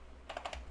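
Quick keystrokes on a computer keyboard as a ping command is typed on a Windows machine, about four light clicks in under a second, close and fairly quiet.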